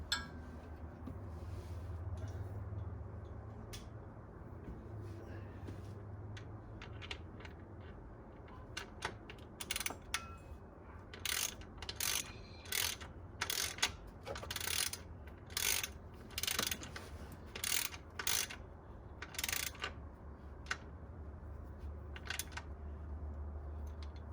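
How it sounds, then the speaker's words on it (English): Oil drain plug on a Ford Fiesta ST180 1.6 EcoBoost is tightened with a ratchet. Short, crisp clicking bursts come in a steady series through the second half, close and fairly quiet over a low background hum. "Then I can get this on and start to tighten up my drain plug."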